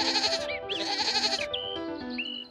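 Goats bleating as a sound effect in a Tagalog bedtime story, several wavering, overlapping bleats one after another, fairly close and clear, with no talking over them.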